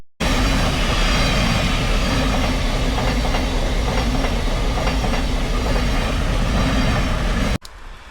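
A Freightliner Class 66 freight train roars past up close at full throttle in a rainstorm near Wivelsfield Station, a loud, steady rumble with rhythmic wheel clatter throughout and no voices, before cutting off abruptly.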